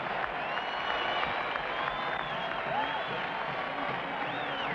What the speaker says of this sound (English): The sellout crowd urges the Lakers to get back in the hunt